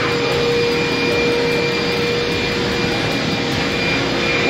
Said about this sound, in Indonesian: Oke, ini dia mesinnya, dengar dulu ya, padat ya.